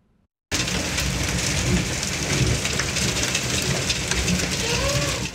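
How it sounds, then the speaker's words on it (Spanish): Hail pours down during an overnight storm in Greenwood, Missouri, a dense, steady roar of pelting ice that starts abruptly and continues loud and unbroken, with low rumbles beneath. "Ese es video del granizo que cayó en Greenwood, Missouri durante la noche."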